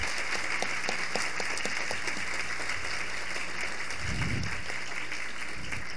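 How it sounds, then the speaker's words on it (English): An audience at a Brazil–Japan joint research workshop gives a steady round of applause for young Japanese researchers, an even, continuous clatter of many hands with a brief low thump partway through. "please stand so we can give you a round of applause"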